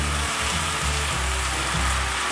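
Spice paste frying in a pan for a fish and cauliflower curry, giving a loud, continuous sizzle with a low rumbling bubble throughout.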